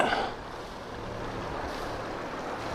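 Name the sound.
sailboat engine and water maker running at sea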